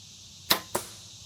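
Two sharp, close slaps of arrows from a Mathews bow striking an outdoor target, about a quarter second apart, each decaying quickly against quiet background.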